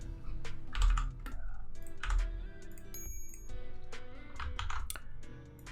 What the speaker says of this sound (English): so we need to type that in.